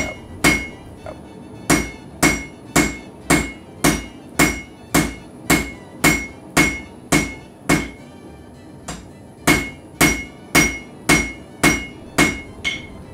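A blacksmith hammers hot steel over the horn of an anvil, drawing out a tapered point for a wand, with about twenty sharp, ringing blows falling in a steady, even rhythm close by and a brief pause partway through.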